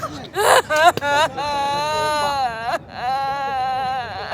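Several wavering, nasal bleats from a goat, a short cry followed by two longer drawn-out calls, close and fairly loud.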